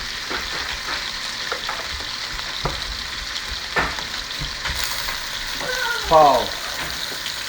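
Andouille sausage sizzles in vegetable oil in a pan, a steady close frying hiss with occasional clinks and stirring scrapes and a brief louder crackle near the end.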